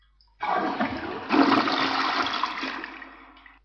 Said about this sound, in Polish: Spuściłem wodę?